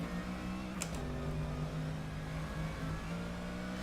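Mercedes AMG GT3 race car in the rFactor 2 racing game, a steady engine drone that dips in pitch under braking, with a brief sharp click early on, continuous and fairly quiet throughout.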